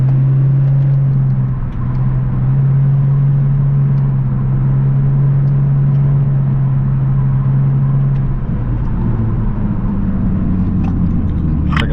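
Lexus IS300 coupe engine under way, a steady loud drone with a strong low hum that holds evenly, then shifts slightly near the end as the car rounds a curve, with road rumble beneath.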